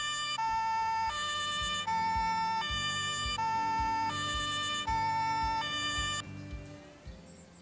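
An ambulance siren in the video game Autobahn Police Simulator 3 wails in a steady two-tone pattern, loud and close, over a low rumble of traffic before cutting off near the end.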